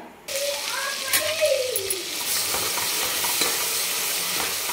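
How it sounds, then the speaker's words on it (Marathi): Ground black masala paste hits hot oil with a sudden loud sizzle that keeps hissing steadily, with stirring scrapes and a few clinks along the way. "आता तेल छान गरम झालं की आपण याच्यामध्ये वाटण टाकून घेणार आहे."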